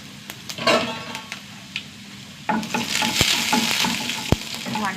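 Urad dal, curry leaves and a dried red chili frying in hot oil in a pan, with sizzling, occasional stirring clatter and a couple of sharp pops or taps against the pan.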